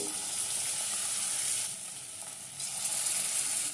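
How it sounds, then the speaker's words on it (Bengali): Potato pakoras deep-fry in plenty of hot oil, giving a steady close bubbling sizzle that dips briefly midway and then returns at full strength, with no talk. "এই পকোড়াগুলো একটু ডুবো তেলেই ভাজবো"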